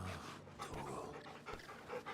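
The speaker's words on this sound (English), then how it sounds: "That's dog." A dog in the Final Fantasy XVI game pants in short, breathy bursts, close and fairly soft, with faint background ambience.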